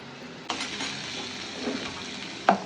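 Onions frying in a pot for mutton curry, stirred with a utensil: a steady close sizzle with scraping stir strokes and a sharper clink of metal near the end.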